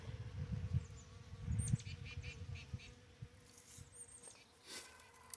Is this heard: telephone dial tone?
no